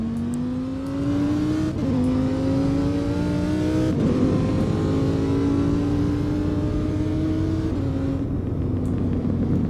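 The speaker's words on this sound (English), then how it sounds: "everything from, shifting gears to the backfire and everything just sounds way better" A Roblox car engine in the Southwest Florida driving game revs hard and climbs through the gears, pitch rising then dropping at each of several shifts, loud and continuous with no talk.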